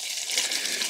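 Liquid pours into plastic bottles in a garden setting, a root-rot preventive treatment for cucumbers, making a close, steady splashing gush for a brief moment.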